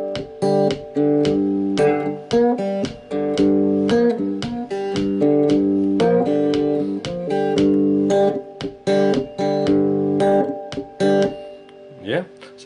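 A cigar box guitar plays a riff of short, choppy plucked notes with syncopated accents in a steady groove, loud and close, with a brief bent note near the end.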